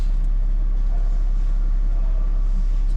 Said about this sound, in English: The car's idling nice and steady